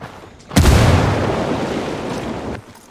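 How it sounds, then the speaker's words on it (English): A grenade bursts during a video game shootout, a single loud, close boom with a sharp onset followed by a long, rumbling roar that fades out over about two seconds. "Grenade, move, move, move! I'm opening fire. Frag out."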